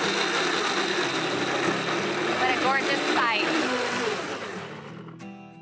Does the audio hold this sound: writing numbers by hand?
no